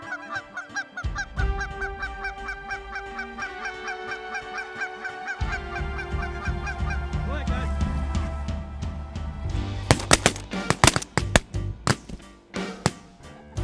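Geese honk repeatedly, loud and near, during a duck and goose hunt in Saskatchewan, their calls layered in a noisy chorus, followed by a burst of sharp gunshots near the end.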